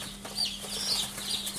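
A chick about to be vaccinated against Marek's disease gives faint, high, thin peeps over a low steady hum, close by and brief.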